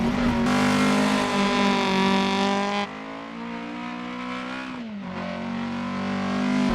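A rally car in DiRT Rally 2.0 drives with a loud, steady engine note, then drops in pitch as it brakes hard for a corner before the engine climbs again.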